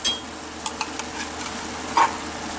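Spaghetti sauce is stirred in a pot, giving a soft steady sizzle with a few faint scraping clicks. It sounds close and quiet, with no talk.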